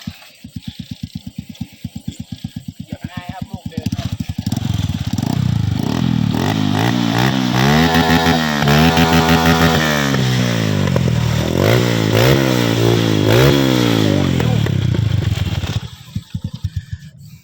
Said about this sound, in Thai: เดี๋ยวเรามาฟังเสียงทอกันครับก่อนจะจบคลิปนี้นะครับ